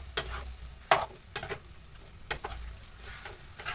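Boiled, chopped potatoes are stirred into tomato masala frying in a pan, with a soft sizzle underneath and sharp scraping clacks of the spoon at irregular intervals, close up and with no speech.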